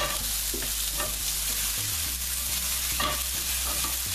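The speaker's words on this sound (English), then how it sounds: "once you see your jeera, right, is like sizzling straight away" Continuous hissing sizzle of cumin seeds frying in hot oil, steady and close, with occasional faint clinks from stirring.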